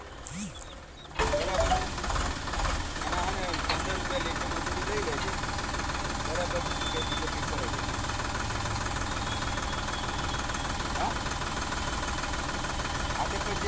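A Sonalika tractor engine runs loud and steady with a new rotavator churning alongside, after a brief quieter moment at the start; no talk is heard over it.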